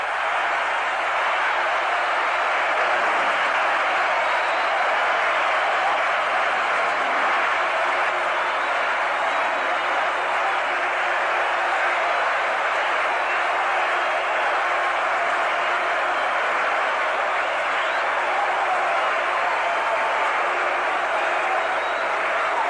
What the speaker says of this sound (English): The crowd roaring, no way of talking over them.